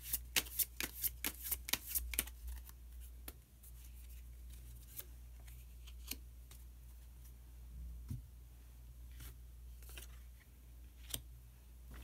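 Tarot cards shuffled with a burst of quick, crisp riffling clicks at first, then sparse single card snaps and slides spread out over a quiet, low hum.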